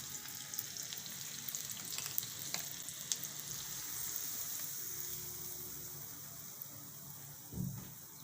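Red chili dropped into hot oil as a tempering for drumstick kadhi, a steady soft sizzle and crackle with a few sharp pops and a brief stir near the end, fairly quiet and without talk.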